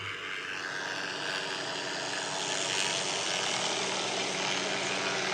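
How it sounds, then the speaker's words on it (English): Aircraft rotor and engine noise from a helicopter passing over a residential backyard, a steady broadband roar that swells slightly in the middle and holds loud throughout. "It's a helicopter."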